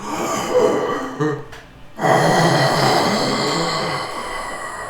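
A man imitates heavy breathing with his voice, rasping, loud exhalations close to the microphone, a short break, then a long sustained breathy rasp.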